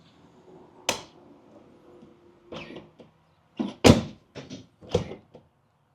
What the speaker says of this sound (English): Let's check and see how well the door closes.